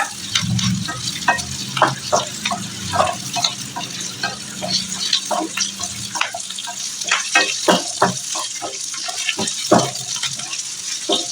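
Onion sautés in a pan for a soya chunk gravy, with busy crackling sizzle and frequent spatula scrapes and taps in an uneven rhythm, loud and near, with no one talking.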